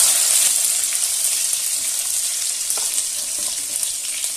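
Green chili and onion frying in a kadhai over a wood-fired stove, a loud, steady bright sizzle that holds throughout, close up with no talk.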